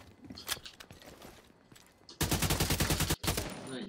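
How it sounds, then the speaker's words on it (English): Rapid automatic gunfire in The Division 2, loud sustained bursts of closely spaced shots broken by a brief gap, preceded by quieter scattered shots and movement. "Somebody's shooting right now"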